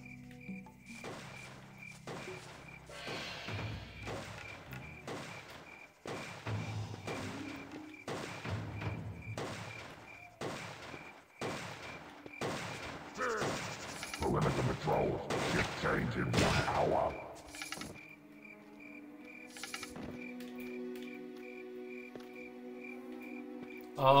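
Gunfire in Turok Evolution, a long string of sharp shots in rapid irregular bursts over a steady ambient hum, fairly loud, then tapering off into quieter game ambience.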